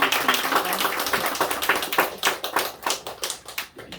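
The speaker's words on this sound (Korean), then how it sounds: "우리 하나님께 영광의 박수" A church congregation claps together, brisk overlapping hand claps that grow more scattered and rhythmic toward the end, with no talking.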